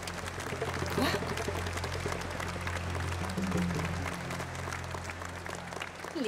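A theatre audience breaks into sustained applause to welcome the artist Léo onto the stage, a dense wash of clapping that stays loud and steady throughout, with crowd murmur and voices mixed in beneath it.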